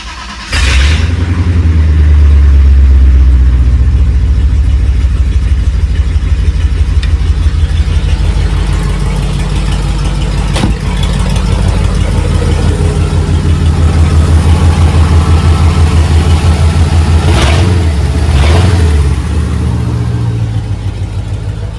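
A V8 car engine with its exhaust disconnected revs loudly and raw up close, a deep rumbling idle swelling into repeated throttle blips, with several sharp rev surges near the end and no talking.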